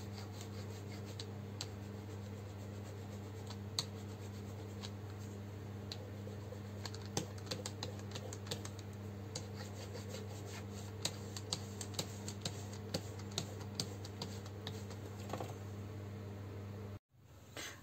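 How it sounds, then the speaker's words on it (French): A paint roller is worked over a tea box being decorated, giving a soft continuous rubbing and rasping texture with small clicks, fairly quiet over a steady background hum, with no talk. "je vais venir appliquer tout ça au rouleau"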